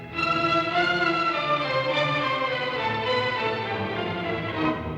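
An orchestra plays a minor-key theme from a Brahms symphony, with sustained strings and winds in rich, swelling harmonies that hold steady and rise slightly near the end, with no speech.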